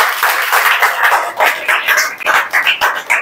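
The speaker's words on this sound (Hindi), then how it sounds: "ताली बजाकर हम परमेश्वर को धन्यवाद" A church congregation claps together to thank God, a dense, loud wash of many hands, rhythmic and continuous for a few seconds in a reverberant hall.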